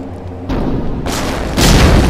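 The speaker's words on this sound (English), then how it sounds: "It's a good thing those explosions were so localized" Big booming explosions in the stealth video game Velvet Assassin, set at night on the docks: two heavy blasts land about a second apart and each swells into a loud, sustained roar, with no voices over them.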